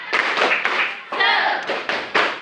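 A school class claps out a rhythmic cheer pattern, several bursts of group clapping in quick succession with short pauses between, while voices call out over the claps.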